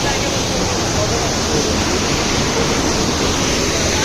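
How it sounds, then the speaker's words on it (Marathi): Roaring flow of a large waterfall near Panvel outside Mumbai, a heavy continuous broadband rush of falling water that stays loud and unbroken from start to finish. "हा वॉटरफॉल पूर्ण इकडून येतो असं वाहत."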